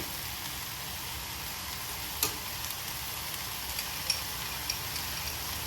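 Paneer, cauliflower, soya chunks and potato sauté in a pan with a continuous steady sizzle, punctuated by a few faint clicks and small pops, with no talking.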